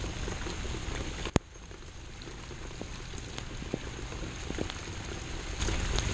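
Water running from the tap of a roof water catch tank, a steady close hiss of flow with a sharp click near the start and scattered faint ticks and drips, no voices.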